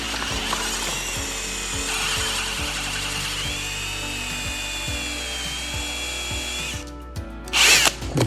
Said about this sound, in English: you're going to drill a perfect hole in the center